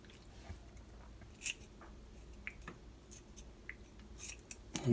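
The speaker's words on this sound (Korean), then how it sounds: "칼로 하는 것보다 가위로 하는 게 좀 편한가 봐요." Scissors snipping through raw webfoot octopus during cleaning, a few quiet, scattered clicks and wet snips spread over a low background, with no speech.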